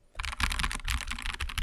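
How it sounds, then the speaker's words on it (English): Close, steady typing on an AKKO ACR Pro 75 keyboard fitted with AKKO CS crystal switches: a rapid run of crisp, fairly loud keystrokes with a slightly scratchy character, and no voice. "The AKKO CS crystal switches that come with it are okay."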